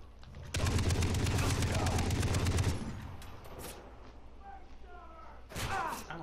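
A video game gun firing in a fast, loud rapid burst for about two seconds, then quieter game sounds and another brief burst, with someone talking over it.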